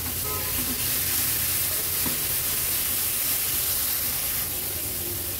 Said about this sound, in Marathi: चटणी आता अगदी मिनिटभरासाठी फक्त तेलावर परतून घ्यायची आहे